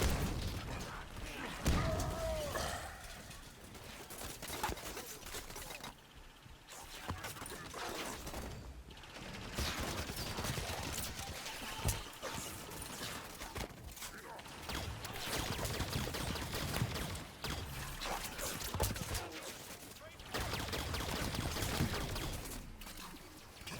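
Gunfire bursts and impacts crackle through a shooter video game battle, rattling repeatedly in uneven clusters at moderate distance beneath voice callouts.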